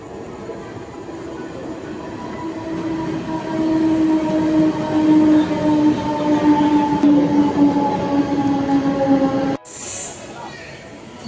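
A crowded local commuter train running on the line, heard from inside the carriage: a steady loud rumble of wheels and rails with rising hum and tonal whine, ending with a sudden drop and a brief high squeal.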